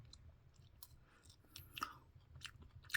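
Quiet close-up crunching and chewing of a crisp ice cream cone, Bravo vanilla light flavor, irregular bites and crackles over a low background hum, no speech.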